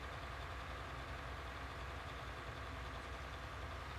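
A tractor engine idles steadily in a farming video game, a constant low rumble that holds even and unbroken from start to finish with no voices over it.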